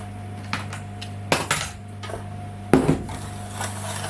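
A spoon scrapes and knocks against metal muffin tins while lemon muffin batter is portioned in, a few scattered clinks and taps, one sharper knock near the end, over a low steady hum.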